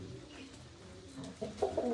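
Low, soft pigeon cooing, a few throaty notes toward the end over a quiet background hum.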